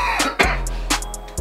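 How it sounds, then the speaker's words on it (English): A young man coughs and clears his throat several times in quick, close bursts, loud and near, with short pauses between them and no speech. "let me get my coughs out."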